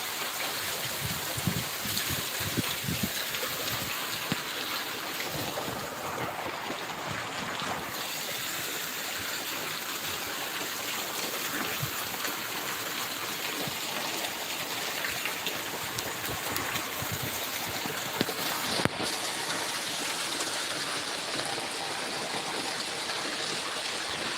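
Heavy rain driven by strong wind pours down in Raj village, Barnala district, Punjab: a steady, dense wash of broadband noise with gusty swells and no voices.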